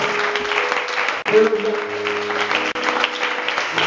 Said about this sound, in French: applaudissons pour le Seigneur, c'est insuffisant.